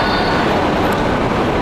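A light rail (LRT) train rolls along with a loud, steady rumble and a broad rushing roar heard from inside the car, continuous with no pauses or talking.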